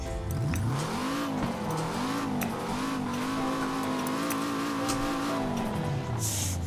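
In Forza Horizon 4, a 1984 Peugeot 205 T16 with a 1.8-litre turbocharged engine revs up and holds a steady high drone before the revs fall away. The engine is loud and continuous, and no one talks.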